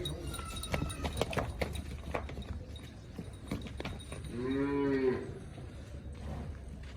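Cattle on a crossbred cattle farm, one clear nearby low moo rising and falling near the end, preceded by clattering and faint farm sounds, with someone talking in the background.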